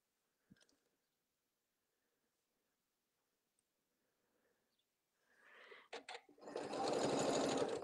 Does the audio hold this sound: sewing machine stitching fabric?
yes